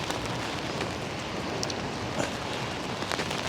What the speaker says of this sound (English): the rain is actually coming down pretty hard